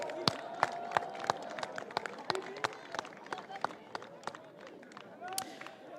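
A crowd at an IAME Eurocup karting event at Le Mans applauds Morocco, scattered sharp claps and taps at a distance, fairly faint, under an announcer's voice.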